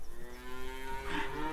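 Cattle mooing in the farming game Farmer's Dynasty as cows are fed in the barn: a single drawn-out, fairly close moo rises midway over a low steady background hum.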